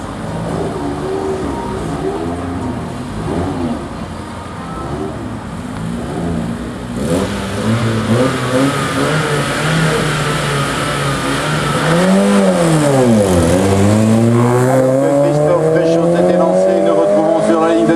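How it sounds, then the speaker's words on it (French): BMW M3 race car at a historic hill climb in Salins–Thésy, engine revving hard through rising and falling gear changes, loud and close, sweeping past with a pitch dip, while a commentator speaks over it. "Une autre BMW M3 pilotée ici par Christophe Fréchot."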